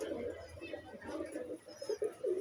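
Pigeons coo softly in a loft, a low murmuring burble that rises and falls continuously, fairly faint, with some background noise around it.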